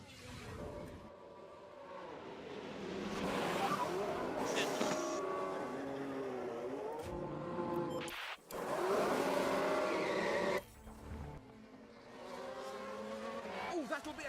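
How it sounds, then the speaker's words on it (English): A Ferrari Formula 1 car in F1 Manager 24 at the Dutch Grand Prix screams with a high, whining engine note and tyre squeal, then breaks up in a short crash against the wall, with a voice talking over it. "that'll be a costly crash as the car makes contact with the wall"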